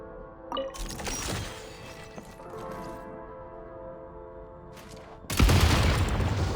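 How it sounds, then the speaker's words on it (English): Explosives detonating in the Genshin Impact video game, a run of crashing blasts and rumbling debris over a sustained tonal game score, ending in a louder, sudden burst near the end. "Shoot the explosives to detonate them and clear the path."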